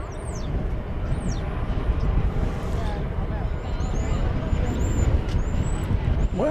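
An airplane taxiing at DFW Airport, a low, steady rumble of idling jet engines with chirping birds overhead, and a person talking over it.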